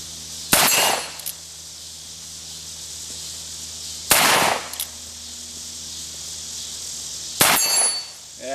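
Three sharp revolver shots from a Cimarron 1875 Outlaw fired outdoors, spaced a few seconds apart, each a loud crack with a short ringing decay over a low steady background hum.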